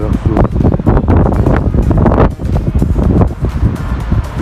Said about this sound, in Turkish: Rüzgarın sesini duyuyoruz mu arkadaşlar?